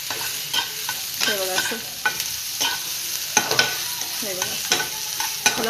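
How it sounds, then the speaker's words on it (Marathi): Onions fry in a kadai and are stirred until reddish-brown for a drumstick vegetable dish, with repeated close spatula scrapes and knocks in an uneven rhythm over a continuous sizzle. "मला चांगलं पाच मिनटं हलवून घेते म्हणजे जर कांदा चांगला परतून घेते लाल होईपर्यंत"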